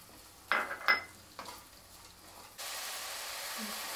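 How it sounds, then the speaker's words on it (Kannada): Dill leaves frying in oil in a pan: a few quick stirring clinks and scrapes, then a soft, steady hiss of sizzling that grows and continues alone. "ಸಬ್ಸಿಗೆ ಸೊಪ್ಪು ಚೆನ್ನಾಗಿ ಎಣ್ಣೆಲಿ ಫ್ರೈ ಆಗಿದೆ"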